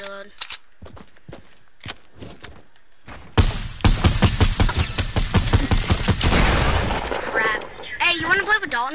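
SCAR rifle gunfire in a video game: a few sharp separate shots, then a dense loud burst of rapid automatic fire that fades into scattered game effects, with a voice talking over part of it.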